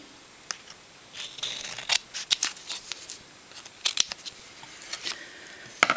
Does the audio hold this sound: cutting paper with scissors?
yes